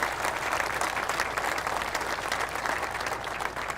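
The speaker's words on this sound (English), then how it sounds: "let's give a round of applause to the entire Pegula family" A crowd applauds the Pegula family at the groundbreaking ceremony for the new Buffalo Bills stadium, a steady, dense wash of clapping from many hands, moderately loud and continuous throughout.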